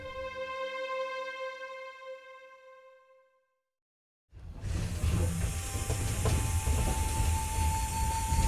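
A train in China just past the border, after a bogie change to standard gauge: a loud continuous rumble and rattle of carriages under way, heard close from inside, after a short fading tonal hum and a second of silence.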